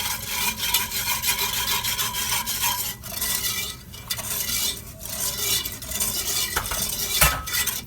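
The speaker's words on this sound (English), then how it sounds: "use your whisk and combine your sugar and your cornstarch" A whisk scraping steadily through sugar, cornstarch and coconut milk in a pot, producing a continuous close rubbing and stirring sound with brief pauses.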